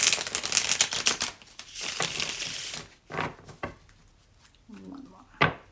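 Close riffle shuffles of a deck of cards, bursts of rapid flicking clicks that end in a snap, with gaps between shuffles and brief talking in the middle.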